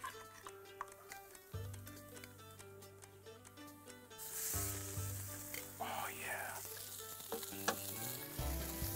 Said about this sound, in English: we're gonna get a nice crust on this tuna right in this plancha